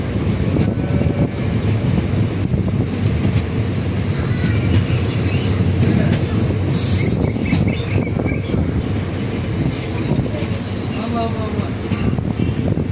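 A passenger train running between Trichy and Thanjavur rumbles steadily throughout, heard from on board as a continuous loud, dense drone of wheels and carriage noise, with faint voices and a brief high squeal partway through.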